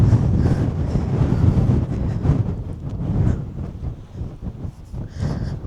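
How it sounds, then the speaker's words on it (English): Strong gusting wind roars across an exposed mountaintop fortress at about 2,000 m, buffeting the microphone with a loud, continuous rumble that rises and falls, with no voices. "The wind is so insane. It just literally try to blow me over."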